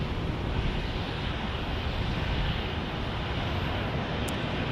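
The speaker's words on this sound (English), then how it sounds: "here comes Sun Country going to Madison" A Sun Country airliner departing from Phoenix Sky Harbor produces a continuous, broadband engine roar, steady and moderately loud, with wind-like noise mixed in and no voices.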